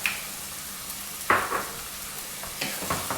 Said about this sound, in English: I have been frying the onion, tomato, ginger, garlic and the spices for about 10 minutes now